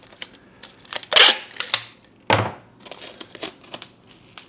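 Bubble wrap crinkles and crackles up close while comic books are packed, with bursts of crumpling and a few louder rustles and taps, no voices.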